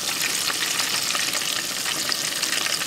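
Ladyfish frying in a pan of hot oil, a dense, continuous crackling sizzle close by and fairly loud, steady from start to finish.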